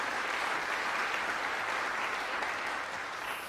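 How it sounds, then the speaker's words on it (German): Steady, dense applause from the audience in a Berlin opera house, the Komische Oper, after a live interview, sustained evenly throughout without voices. "Sie hören den Applaus."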